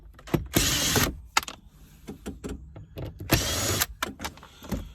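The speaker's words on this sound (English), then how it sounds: "it's Phillips, 1 second. So, it's just a normal screwdriver." Phillips screwdriver working screws inside the dash of a Ford Transit Mk7 van, a series of close, brief scrapes, clicks and rattling bursts with quiet gaps in between, no talk.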